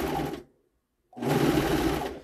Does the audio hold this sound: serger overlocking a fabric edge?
yes